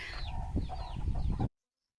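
Chickens cluck and squawk close by for a moment before the sound cuts off abruptly into silence.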